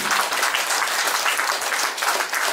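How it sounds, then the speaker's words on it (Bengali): A seminar audience at a lifestyle medicine workshop applauds, dense steady clapping from many hands, loud and continuous throughout without pause. "সবাই একবার হাততালি দিন নিজেদের জন্য"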